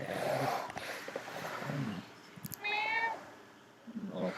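A pet cat meows in a few short, close calls, with brief gaps and soft rustling between them.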